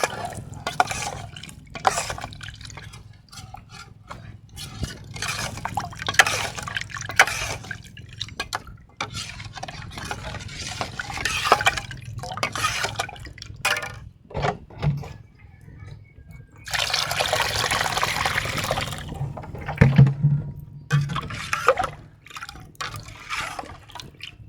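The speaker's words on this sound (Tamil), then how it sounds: "நல்லா கலக்கிக்கலாம்." Pumpkin kuzhambu stirred in a cooking pot after salt is added: wet sloshing and dripping liquid sounds with clinks, close and moderately loud, no talking.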